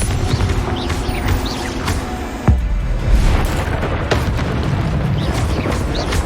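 A Confringo spell blast erupts in Hogwarts Legacy with a sharp fiery boom that booms out over a dense, loud bed of combat effects and rumbling game noise.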